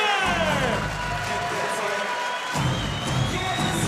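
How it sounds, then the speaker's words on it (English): Crowd at a live MMA cage-fighting event roars and cheers for a fighter from Estonia, a loud, sustained wall of shouting and whooping that swells again near the end. "Listen to that crowd roar for Sten Sarime."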